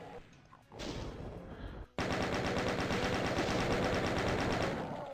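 Rapid automatic gunfire from chaingunner enemies in the shooter game DOOM Eventide, map Slump Station, opens as a burst, pauses briefly, then returns as loud sustained rattling fire.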